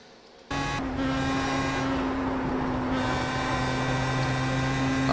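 A Pro Mazda race car in the iRacing sim at the Nürburgring, its engine droning loudly and steadily after a sudden start, with strong sustained harmonic tones holding pitch through the lap section.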